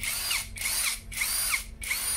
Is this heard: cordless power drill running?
yes